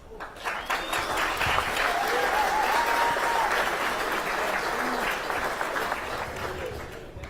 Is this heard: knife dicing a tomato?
no